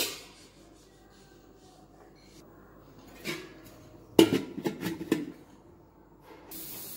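A lid set onto a pot of chicken biryani cooking on the stove gives a short burst of close metallic clinks and clatter partway through, surrounded by near silence.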